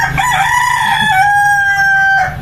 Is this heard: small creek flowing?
no